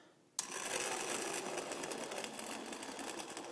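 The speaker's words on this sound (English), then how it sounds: "take our immersion blender" An immersion blender switches on abruptly at low speed in a pot of pasta e fagioli soup, then holds a steady whirring motor buzz with slight churning, close and continuous.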